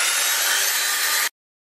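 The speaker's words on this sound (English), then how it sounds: "That was fairly rough sandpaper, to be perfectly honest with you." Coarse sandpaper rubbed across a wooden bass tailpiece with a new hand tool, a steady dense abrasive hiss lasting just over a second before stopping abruptly, close and fairly loud with no talk.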